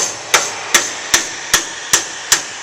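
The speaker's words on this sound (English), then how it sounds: "take that out, give it a few taps with a hammer" A hammer taps bent metal on a 1955 Chevy truck frame step notch: six evenly spaced, sharp ringing strikes, close and clear, with no talking.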